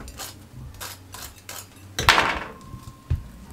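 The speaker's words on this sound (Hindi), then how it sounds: "खस्ता कितने हैं ये देखें, साउंड सुनिएगा।" Crispy fried chicken snacks crunch and crackle, a few soft rustling handling sounds followed by one sharp burst of brittle crunching and a final click, close and fairly quiet.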